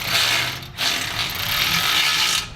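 Continuous ratcheting clicks from a hand ratchet snugging exhaust bolts on a Polaris RZR XP Turbo during a GGB exhaust install, loud and close, with one brief pause partway through and no talking.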